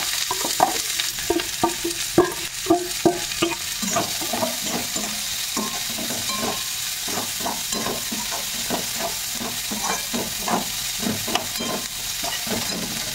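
Onion, garlic and chili fry together in hot oil with cumin, a steady close sizzle broken by a repeated rhythmic clatter of stirring against the pan throughout.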